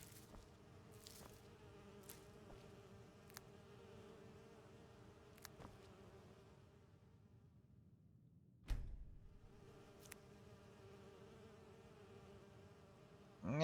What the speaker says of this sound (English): the bees just kind of stick around in their place